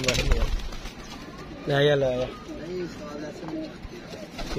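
Colourful pigeons give a short, close coo amid light background noise, with someone speaking around the call.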